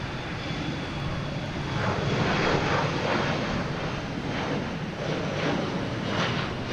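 Airplane engines roar steadily at Logan Airport as a jet takes off close by, a loud continuous broadband rumble with slight swells and some wind noise, no talking.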